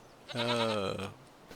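Goats bleat in the livestock pen of the farming video game Farming Simulator 25: one loud, near, drawn-out bleat lasting about a second against quiet background, with no talking.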